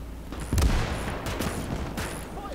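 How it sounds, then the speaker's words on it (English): Several heavy booms and crackling blasts of mortar fire in the WWII strategy game Gates of Hell, a few loud impacts over about two seconds against a rumbling battlefield, no speech. "Mortar's just working on everything, isn't it?"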